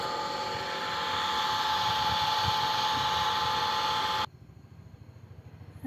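Water pump motors at Sulekere lake give a loud, dense, constant mechanical roar for about four seconds, then cut off sharply, leaving a quieter rumbling background.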